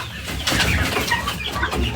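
Chickens at a home yard where someone has come to give the hens injections, clucking and calling in a dense, continuous flock chatter close by, with a louder burst partway through and no talk.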